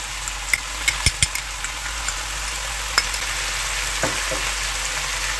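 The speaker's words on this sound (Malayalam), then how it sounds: "ജിഞ്ചർ ഗാർലിക് പേസ്റ്റ് ഇട്ട് കൊടുക്കാം." Ginger garlic paste sizzles in a pan with tomatoes and green chillies for butter chicken, giving a steady soft frying hiss broken by a few sharp clicks and taps of stirring, with no one speaking.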